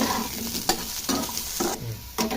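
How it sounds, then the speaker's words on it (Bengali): Potatoes frying in oil in a pan, with a continuous sizzle and repeated scraping strokes as they are stirred, heard close up with no talk. "এরপরে একটু নাড়াচাড়া করে আলুটাকে ভেজে নিব।"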